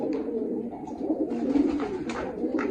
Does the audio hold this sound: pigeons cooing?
yes